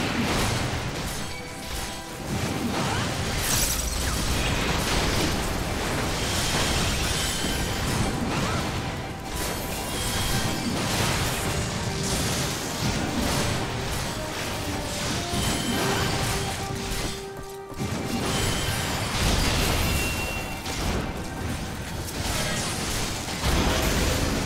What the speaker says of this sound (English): Yay for explosions.